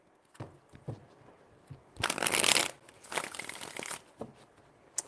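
Tarot cards shuffled by hand, several crisp riffling bursts with the loudest in the middle, separated by lighter taps and handling noises.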